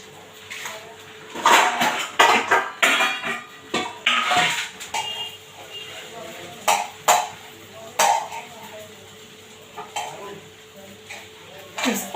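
Sabudana (sago) being stirred by hand in a pot, giving repeated scraping and clinking bursts at an irregular rhythm, close and fairly loud, with no talking.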